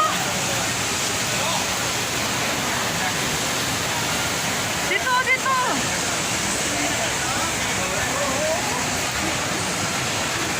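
Jewel waterfall inside Singapore Changi Airport roars as a steady, dense wash of falling water, loud and constant throughout, with a few brief voices talking over it near the middle.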